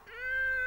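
A cartoon wolf character does a short, drawn-out meow in imitation of a cat, a single tonal cry that rises and holds for under a second.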